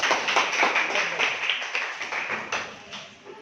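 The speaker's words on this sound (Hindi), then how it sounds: "ताली बजाओ इनके लिए" Children in a classroom clap together in a brief burst of applause, a dense, steady patter of many small hands that fades slightly toward the end.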